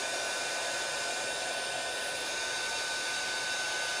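A heat embossing tool blows hot air steadily over a card stamped with oxide inks, producing a continuous, fairly loud hiss-like whoosh with no pauses and no talking.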